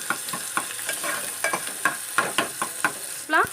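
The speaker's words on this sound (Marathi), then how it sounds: "थोडी एक मिनटं आपल्याला फोडणी छान परतून घ्यायची आहे" Tomato tempering with oil sizzles steadily in a pan while a spoon stirs it, giving repeated scraping strokes about every half second and one louder scrape near the end; no one speaks.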